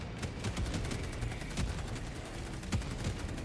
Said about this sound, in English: So yeah, this thing also has a automatic machine gun.